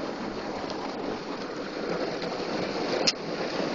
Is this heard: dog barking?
no